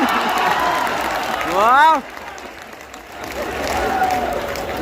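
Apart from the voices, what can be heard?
audience clapping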